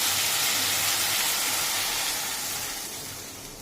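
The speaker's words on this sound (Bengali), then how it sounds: "এর মধ্যে এবার মা জল দিয়ে দিচ্ছে।" Water poured into sizzling spice paste frying in a pan for a Bengali fish curry gives a loud, steady steaming hiss that holds for several seconds and fades slightly toward the end.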